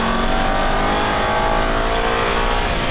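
An Aston Martin V8 Vantage accelerating hard on a Las Vegas race track, a loud, steady engine roar heard close from inside the car, with no talking.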